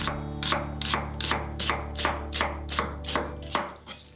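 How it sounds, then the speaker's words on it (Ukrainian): A knife cuts onion into half rings on a board with about ten crisp, evenly spaced chops in a steady rhythm, close and clear, with no voices. "Цибулю нарізаємо на півкільця."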